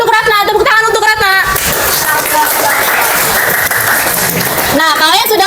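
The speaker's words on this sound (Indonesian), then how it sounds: "Tepuk tangan untuk Ratna" Classroom applause for a student returning to her seat, a burst of clapping in the middle of the clip, bracketed by children's voices talking before and after.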